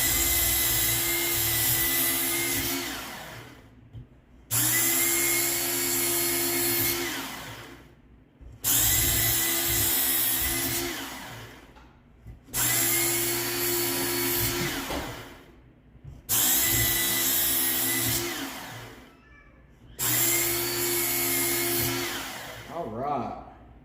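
A Work Sharp powered knife and tool sharpener grinds a machete blade in six repeated passes, each a loud whirring grind of a few seconds followed by a brief drop as the blade lifts away.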